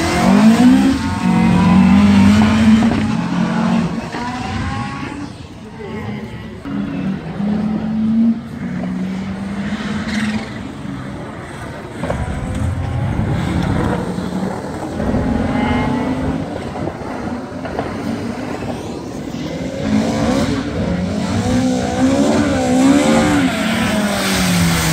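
A Ford Sierra Cosworth rally car leaves the start line on a stage at the Brean Stages Rally, with loud revving engine, rising and falling gear pulls and repeated acceleration bursts, continuous and close.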